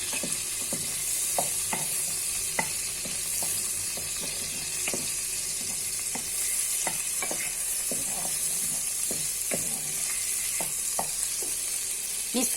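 Boiled pasta being stirred with fresh butter in a pan: a steady, close sizzle with regular scraping strokes of the spoon, no voices.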